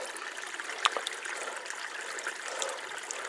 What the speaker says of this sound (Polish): woda źródlana